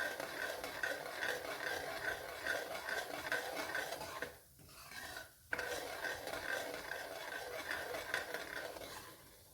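A spoon steadily stirs semolina halwa roasting in ghee in a pan, a soft continuous scraping and faint sizzle with a short pause midway, close and quiet with no talk.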